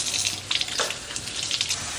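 Tap water runs steadily into a sink while apples and green chiles are washed under it, a close, continuous hiss with small splashes and no voices.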